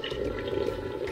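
Water is poured into a cooking pot for Jamaican curry chicken or rice and peas, a steady continuous splashing stream lasting about a second, close and fairly loud with no talking.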